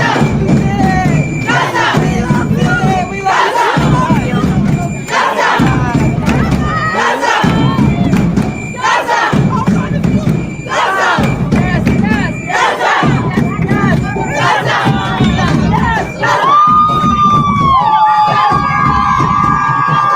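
A rally crowd welcomes activist Chris Smalls back home with loud, rhythmic chanting and cheering, with repeated shouted bursts close by and a few whoops toward the end.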